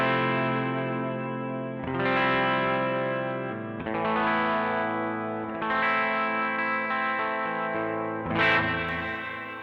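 Electric guitar chords ring through a TC Electronic Arena reverb pedal with a long, atmospheric reverb, each strum blooming and sustaining into the next across several chord changes, with a brighter accent near the end.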